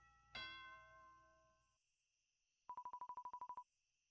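A doorbell in a mansion: a single bright chime rings out and slowly fades, followed later by a rapid run of about a dozen short electronic tones, clear against silence.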